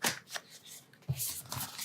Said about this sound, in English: So the first thing we need to do here is cut the tape on the top.